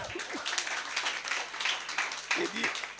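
Applause from a church congregation acclaiming the Lord, dense and steady for about three seconds with a lift near the end, voices mixed in underneath.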